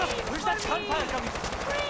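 Rapid gunfire crackles in the Far Cry 4 video game during a chaotic firefight, with shots and bursts layered under shouting voices and game music at moderate loudness.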